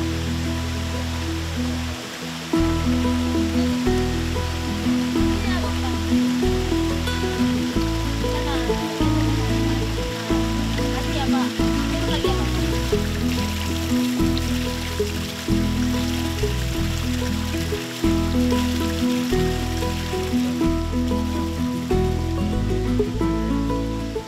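Simarudan-udan waterfall in a forest area rushes steadily with a constant broad wash of falling water, fairly close and unbroken throughout, with low rumbling beneath.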